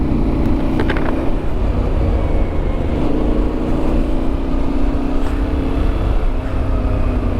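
2022 Yamaha Tenere 700 or MT10 engine droning continuously while riding, loud and close, with wind rush and a few brief throttle changes.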